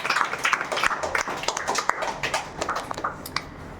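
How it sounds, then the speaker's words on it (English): A small audience claps for junior students after a spoken English presentation, a fairly quiet, uneven patter of hands throughout with faint voices mixed in. "give them the big round of applause"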